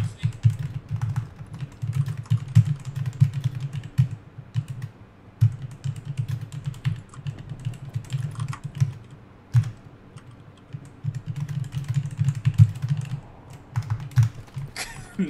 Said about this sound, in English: Damn, my dude's typing up an essay.